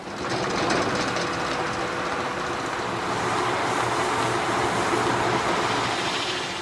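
A 1915 Robey of Lincoln traction engine runs steadily, a loud continuous mechanical drone with a dense rattling, rhythmic chuff throughout, close by and unbroken, with no talk over it.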